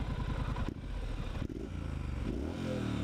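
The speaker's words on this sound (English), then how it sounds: "Oh, that engine noise, that triple, and then this exhaust." A Triumph Street Scrambler's triple-cylinder engine idles close by, with a steady low thrum and exhaust burble and a couple of brief blips partway through.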